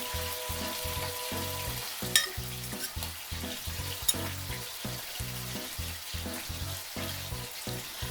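Chicken fillets fry in hot olive or coconut oil, giving a continuous close sizzle with rhythmic stirring or shuffling in the pan and a couple of sharp pops.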